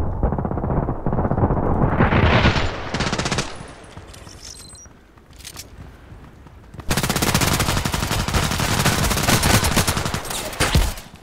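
Gunfire in the online shooter Contract Wars: loud, close automatic bursts that rattle for a few seconds, ease into a quieter lull, then resume as sustained rapid fire to the end.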